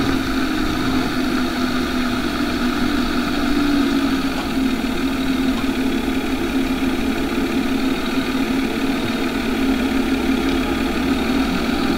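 A farm tractor engine idles close by, a steady, even rumble with a constant low drone that holds alone without talk.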